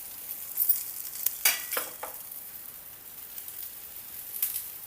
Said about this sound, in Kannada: ನೋಡ್ರಿ, ಈಗ ಎರಡು ಕಡೆ ಎಣ್ಣೆ ಹಾಕಿ